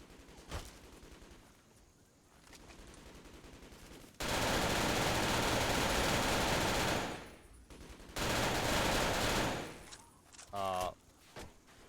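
Rifle gunfire in Fallout 3, loud sustained bursts of shooting in two long stretches with short pauses, plus a few sharper single shots near the end, with someone talking during the quieter parts.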